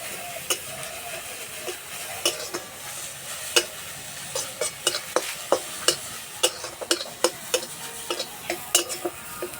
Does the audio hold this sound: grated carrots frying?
yes